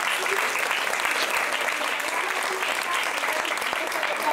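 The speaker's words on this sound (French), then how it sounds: "Sarah, on t'applaudit" Steady applause from a seminar audience on pitching skills, dense clapping filling the whole stretch at an even level with no break.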